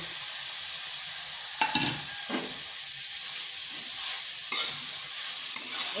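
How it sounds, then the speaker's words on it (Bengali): A soft, steady sizzle of grated carrot frying in a wok, with a few scraping stirs of a spatula breaking through the hiss. "গাজরটা একটু ভেজে নিচ্ছি"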